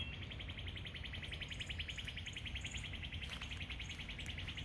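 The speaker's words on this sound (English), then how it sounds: "You can hear all the birds." Birds chirp in quick, repeated trills over a steady outdoor hiss, with a low rumble of background noise throughout.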